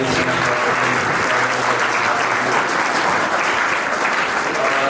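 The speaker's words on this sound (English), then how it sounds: "I would request each one of you to applaud for yourselves." Dense, loud, continuous applause from delegates filling a hall at the closing ceremony of St Joseph's College Model United Nations 2023, steady for the full five seconds.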